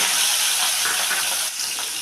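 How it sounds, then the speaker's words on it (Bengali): Prawns fry in a pan with an even, close hiss and sizzle, continuous and fairly loud with a small dip partway through. "চিংড়ি মাছগুলো আমি একটু ভেজে নেব"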